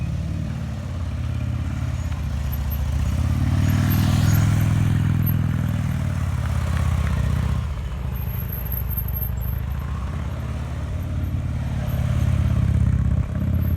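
A motorcycle ridden by a skilled rider at a track riding event in Arizona, its engine drone rising and falling steadily and loud throughout, with no talk.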